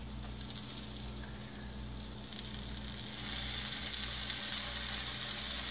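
Morning Star Farms veggie bacon strips frying in a pan, a steady close crackling sizzle that grows slightly louder partway through, with no talking.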